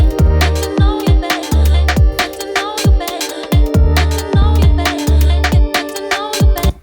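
Full electronic track built on stacked polysynth chord harmonies over punchy programmed drums with a deep kick, a dense, loud mix pulsing in a steady groove with no voices.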